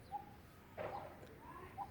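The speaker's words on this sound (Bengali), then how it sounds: "আর কি পাখিতে ডাকতেছে" Village birds call outdoors near coconut trees, a pigeon or dove cooing in soft, faint bursts spaced across a quiet background, with no talking.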